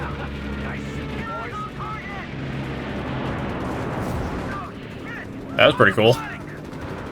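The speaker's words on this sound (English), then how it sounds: "I'll get behind this machine gun before it's too late. MG-42! Light it up!" An MG-42 machine gun fires in the World War II strategy game Company of Heroes 3 amid a noisy battle, with rapid bursts and a few sharp, louder cracks near the end under shouted voices.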